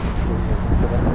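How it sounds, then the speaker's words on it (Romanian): Strong wind buffets a GoPro HERO9 Black microphone outdoors in Bra, producing loud, continuous low rumbling gusts that swell and dip without a break. "Da, bate vântul rău."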